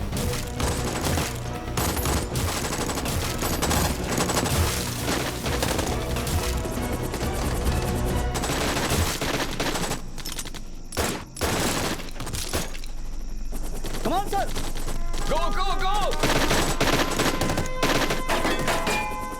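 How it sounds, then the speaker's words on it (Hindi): Heavy machine-gun fire in a war film battle scene, a dense, continuous fusillade of rapid shots and sharp cracks with brief lulls, loud and close throughout. "सर एनिमी की बहुत हैवी फायरिंग हो रही है सर।"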